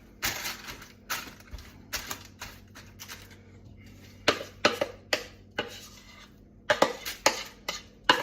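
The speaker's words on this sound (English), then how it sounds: "we're going to just basically spoon this mixture into our pan" A spoon scrapes and taps as a chocolate biscuit and copha mixture is spooned into a pan. The clinks come in sparse, quiet bursts with pauses between them, and no one speaks.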